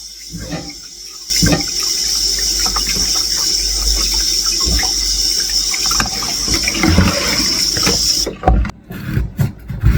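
Water runs from a tap over a butternut squash as it is washed, a steady close gush with some handling noise, then stopping and trickling near the end.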